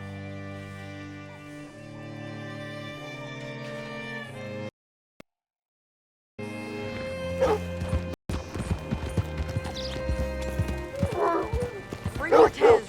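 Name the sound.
horse hooves clip-clopping in a video game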